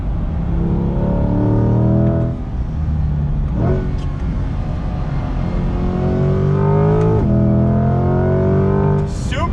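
A 2020 Chevy C8 Corvette Z51 accelerates hard, its engine note climbing steadily in pitch through several upshifts, loud and continuous from inside the car.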